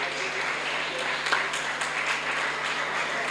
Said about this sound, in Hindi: और तालियां बजाएं।